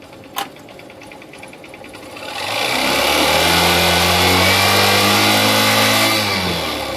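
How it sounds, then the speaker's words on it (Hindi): A Honda Shine motorcycle engine with a carburettor fault idles, then revs up gradually into a loud, sustained roar that holds for several seconds before easing slightly; no talk. "मैं धीरे धीरे जब रेस दूंगा तो चाल इंजन की अच्छी बनेगी।"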